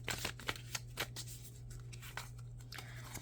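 Tarot cards of The Light Seer's Tarot deck being shuffled by hand, a rapid papery riffle and slap of cards repeating in quick bursts, close and steady, with a low constant hum beneath and no talking.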